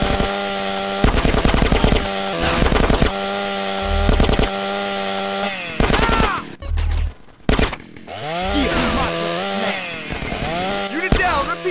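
Rapid bursts of automatic gunfire in GTA San Andreas, loud and repeated in several volleys over a steady game music hum, with a chainsaw-like revving mixed in between.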